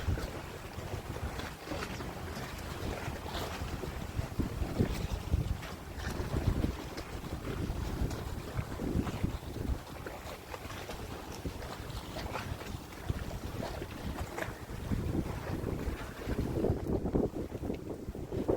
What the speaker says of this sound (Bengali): একটা স্পিড বোট আসছে।